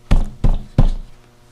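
Three firm, evenly spaced knocks on the door of a room, loud and close, with a short ring-out after the last and no voices.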